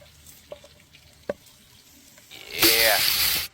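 Bacon and onion hit a hot pan outdoors, erupting into a loud, close sizzle about a second long after a few quiet clicks and taps.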